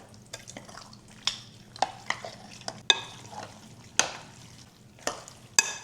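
A bone marrow mixture is stirred into homemade bone broth, the spoon scraping and knocking the pot in irregular close strokes over a soft low hum, with no one talking.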